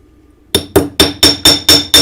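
Hammer striking a wire on a work surface, seven sharp metallic taps in an even rhythm, loud and close, with no voices.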